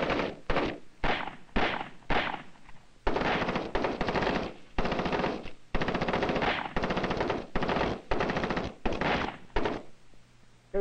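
Bursts of automatic gunfire from captured enemy weapons during military training, repeated loud volleys with short pauses between them and no talk over them.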